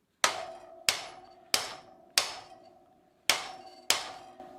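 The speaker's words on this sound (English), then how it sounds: "I'm going to try just for fun and see if I can hammer this seat post down" A hammer strikes the seat post of a Gazelle Speciaal bicycle six times with loud, ringing metallic blows at a steady rhythm, with one slightly longer pause before the last two hits.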